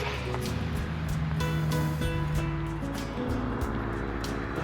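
Caribbean sea surf at Boca Chica beach, Dominican Republic, a continuous broadband wash of waves with intermittent bursts, heard close and fairly loud alongside a low engine-like hum.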